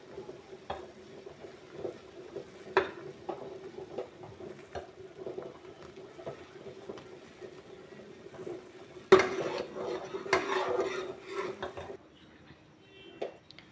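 Homemade ghee simmering and foaming in a pot while a spoon scrapes and stirs, producing faint repeated clinks and scrapes over a soft bubbling bed, with a louder clatter near the end.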